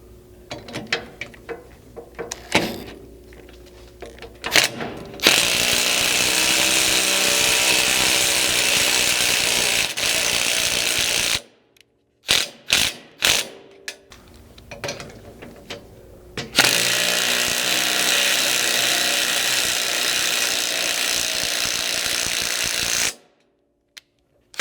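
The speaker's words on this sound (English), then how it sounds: "installing those 3/8 thread cutting bolts with a 9/16 socket." Two long bursts of a power driver with a 9/16 socket run 3/8 thread-cutting bolts into a Land Cruiser 100 Series gas tank skid, loud whirring each lasting several seconds, separated by short clanks and quiet gaps.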